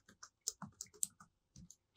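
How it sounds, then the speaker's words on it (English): Quick, light clicks of keys being tapped on a keyboard, irregular and close, with a brief pause before a few final taps. "In the white box, begin typing your text."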